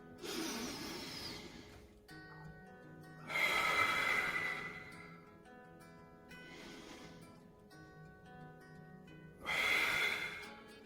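Slow, deliberate breaths during a sit-up exercise: two loud, airy exhales through the mouth, each lasting about a second and a half, with quieter inhales between them, close to the listener and with no talking.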